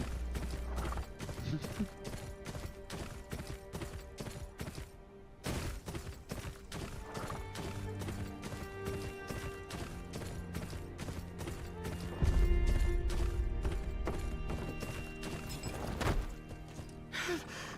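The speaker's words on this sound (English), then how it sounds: "I called my horse and I saw it fall from the sky." Steady, rapid clip-clop of a video game horse's galloping hooves runs throughout, close and even, with no talk over it.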